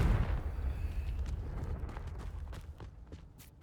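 The Confringo explosive spell going off in Hogwarts Legacy, a heavy low rumbling blast right at the start that slowly fades, followed by scattered crackling debris-like ticks.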